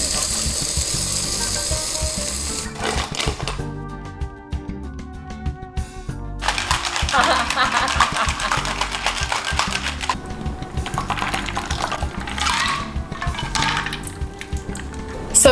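A cocktail shaker half filled with heavy whipping cream is shaken hard, giving a loud, rhythmic sloshing rattle in bursts with short pauses, close up and without talk.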